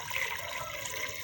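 About one and a half litres of water pours into a pot of mutton for Chinioty kunna gosht, making a brief, steady splashing gush close by.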